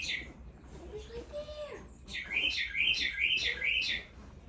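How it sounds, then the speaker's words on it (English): Bird chirping inside a barn on a Kunekune pig farm: a quick run of bright, repeated chirps, fairly close and clear, after a brief stretch of murmuring at the start. "There's a bird in the barn."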